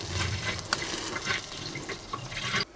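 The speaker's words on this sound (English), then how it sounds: "Let's see if I can make the pour without making too much of a mess." Premium diesel fuel glugs steadily from a container into the tank of a Chinese diesel heater, a close, continuous liquid pour that ends abruptly.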